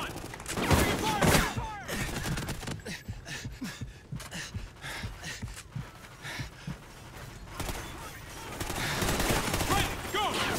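Gunfire during a firefight in Call of Duty: Ghosts: repeated bursts of shots near and far, mixed with shouting voices and battle noise, building up again toward the end.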